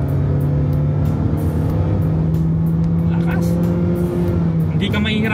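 A Jetour T2 4x4 SUV accelerates hard on the road from around 75 km/h in normal mode. A steady engine drone climbs gradually in pitch under road noise, with a person talking over it.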